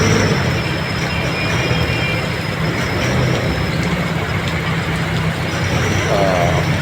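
A loud, continuous roar of an elevated MRT train passing near, blended with heavy rain noise, with no talking over it.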